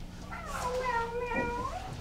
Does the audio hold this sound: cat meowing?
yes